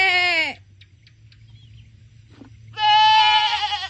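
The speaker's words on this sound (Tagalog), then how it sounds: "There's a baby goat" A young goat bleats loudly twice on a farm, a long wavering cry, a pause with faint rustling, then another drawn-out bleat, close by.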